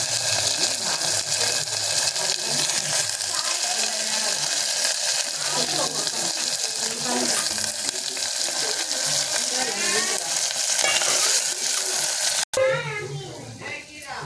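Washed mutton pieces fry in hot oil with a loud, continuous hiss and sizzle that fills the scene, while a person talks over it and a sharp clatter of pan handling comes near the end.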